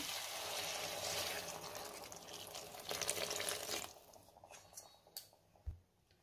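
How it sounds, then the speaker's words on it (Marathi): Hot water pours into a pan of soybean masala with a loud, close rush and bubbling hiss for about four seconds, then tapers into softer gurgles and a few light knocks. "आता आपण त्यामध्ये गरम पाणी घालूयात।"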